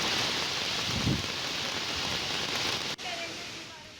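Heavy unseasonal rain with stormy wind in Wangani, a steady loud broadband wash of downpour throughout, with a brief dip near the end and faint voices in the background.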